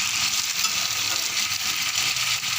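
Pieces of jackfruit fry in hot oil in a wok with a dense, even crackling sizzle that holds steady and close throughout, with no voices.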